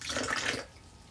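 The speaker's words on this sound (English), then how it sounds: "I'm going to see what happens to these things when I pour just a little bit of Gatorade in them" Diluted Gatorade pours briefly into cups of water, a short close splashing trickle lasting about half a second before fading into quiet room tone.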